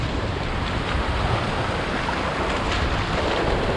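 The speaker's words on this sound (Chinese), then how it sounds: "浪大了一点" Ocean surf breaking on a seashore after a big tide, a continuous roar of waves with steady wind buffeting the microphone and no voices.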